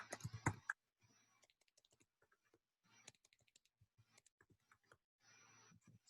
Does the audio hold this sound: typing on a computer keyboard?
yes